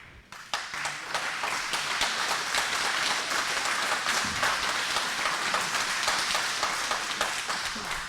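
An audience at a town board public hearing on a renewable energy law breaks into applause, dense and steady clapping that rises quickly and continues at a fairly even level for several seconds.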